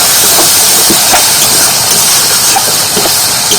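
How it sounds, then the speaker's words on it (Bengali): A little water poured into frying masala for a saluk chicken curry, setting off a loud, dense, unbroken sizzling hiss that fills the whole moment close up. "এবার মশলার মধ্যে সামান্য একটু জল দিয়ে দিচ্ছি।"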